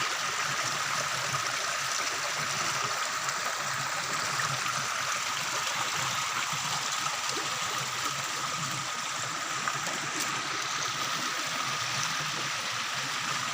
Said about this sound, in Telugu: నేల మీదుగా సహజమైన ప్రవాహం నీటి ప్రవాహం